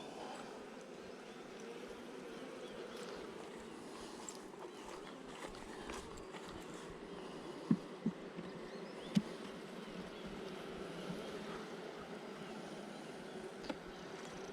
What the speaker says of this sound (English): a lot of bees on it